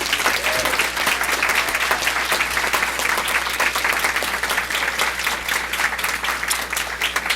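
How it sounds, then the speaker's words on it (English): Steady round of applause from an audience at a school board of education meeting, dense clapping sustained for several seconds, fairly close and loud without talk over it. "So please join me in giving this exceptional team a well-deserved round of applause."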